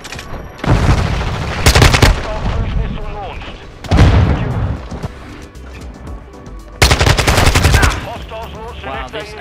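Repeated bursts of AK rifle fire in the shooter video game Modern Warfare 2, three loud rattling volleys separated by short gaps, with a voice talking underneath and other game sounds in between.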